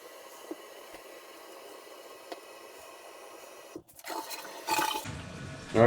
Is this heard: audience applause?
no